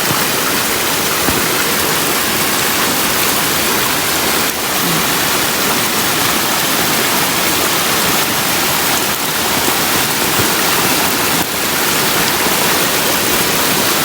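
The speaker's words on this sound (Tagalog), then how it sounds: "Lakas ng agos." Loud, constant rushing of fast floodwater, a dense roaring current that fills the whole stretch without letting up.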